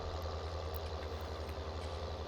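Steady low engine idle from a small tractor parked at the silage pit in a farming video game, a continuous even rumble with a faint higher hum above it and no talk.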